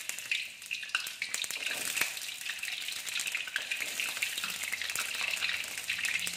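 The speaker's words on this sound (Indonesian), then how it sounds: "Kita goreng bawang putihnya." Garlic frying in heated cooking oil, a close, continuous crackling sizzle with dense bursts of popping and occasional stirring scrapes, steady and fairly loud without any talking.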